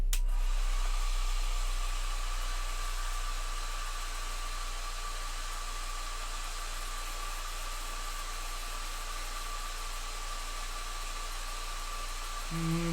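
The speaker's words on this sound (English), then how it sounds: "let's hit it with the hairdryer." Hair dryer blowing on a freshly painted miniature, a steady loud rushing whoosh with a faint whine that runs unbroken for over ten seconds before cutting out at the end.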